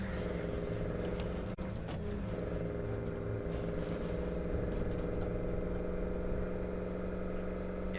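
A truck drives in State of Decay 2, its steady mid-pitched engine drone and whir running continuously under game sounds, with a single sharp click near the start.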